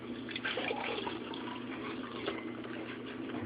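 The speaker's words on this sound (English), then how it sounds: "I just use like a measuring cup to pour out some of the milk." Milk pours from a measuring cup into more milk while making homemade yogurt, a soft continuous liquid splash and trickle heard close up and fairly quiet, without speech.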